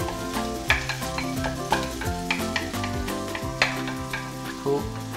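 Onions frying in a pan as a paste of crushed cashews, ground almonds, yogurt, garlic and ginger for lamb korma is stirred in, giving a steady sizzle with regular scraping and knocking from the spoon and no voices.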